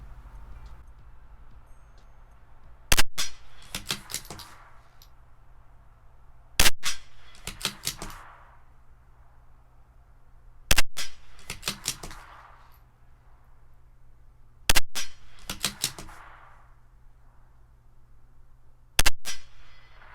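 A CZ 457 rifle firing a five-shot group of Eley Benchrest ammunition: five sharp, loud cracks spaced about four seconds apart, each followed by a quick run of metallic clicks from the bolt.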